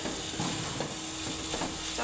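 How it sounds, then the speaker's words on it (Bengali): Okra stir-fried in a pan, a soft steady sizzle with a few light stirring scrapes at intervals, fairly quiet and without talk. "অনেক সময় ধরে আমি ঢেঁড়স ভাজি করতেছি"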